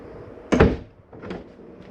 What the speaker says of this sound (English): Bedroom to bathroom door, you want snapped open for travel.